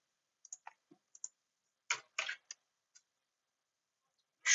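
Sparse keyboard typing while writing PL/pgSQL code for PostgreSQL: a few isolated light clicks, then two short bursts of quicker keystrokes near the middle and one more at the end, close and fairly quiet with no talk.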